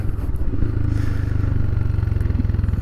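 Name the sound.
Royal Enfield Himalayan motorcycle accelerating for a wheelie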